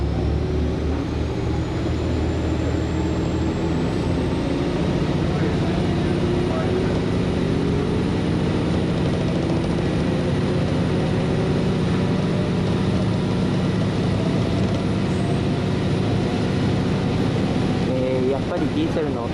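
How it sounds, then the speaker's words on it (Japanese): A diesel railcar on the Isaburo 91 service from Moji-ko to Hakata pulls out of Kurosaki Station, its engine giving a steady, heavy low rumble that holds throughout, close and continuous. "ディーゼルの音はいいですね。 このゴッゴッゴッゴッっていう、まあ、なんて言ったらいいんだろうな、エンジンを上げていく音が、まあ、なんか好きですね"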